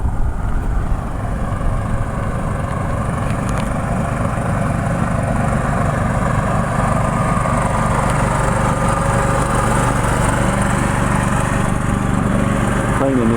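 A vertical mower dethatches a lawn, its engine running as a loud, steady drone with a rough low rumble throughout, close by.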